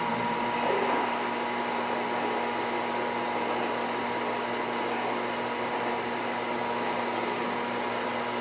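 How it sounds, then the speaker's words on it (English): A pump circulates waste vegetable oil from the bottom of a tank back into its top, mixing it; a steady, loud mechanical whir with a constant hum runs unbroken and alone throughout. "now the product's being mixed, coming out of the bottom of the tank, going into the intake of the pump"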